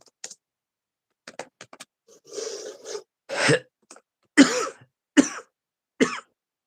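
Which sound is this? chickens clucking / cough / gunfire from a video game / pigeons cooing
cough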